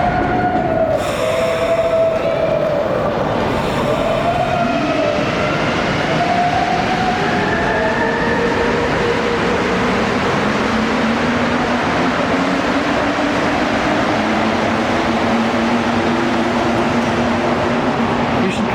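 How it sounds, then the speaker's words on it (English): A Montreal metro train rumbles and hums as it pulls away from the station, with faint squealing wheels and motor tones shifting in pitch, loud and steady throughout. "This is the train I just got off."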